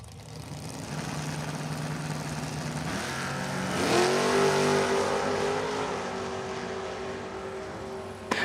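Drag race cars, including a third-generation Camaro, launch at a dragway with loud engines rising from a rumble into a roaring high-rev pull that fades as they run off, heard from trackside.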